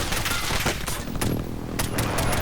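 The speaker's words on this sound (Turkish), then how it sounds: "Nasıl vuruyor la oğlum onun elindeki silah ne silahı?" Call of Duty Warzone gunfire, a continuous loud barrage of overlapping automatic shots and bursts, dense and unbroken, with a voice faintly beneath.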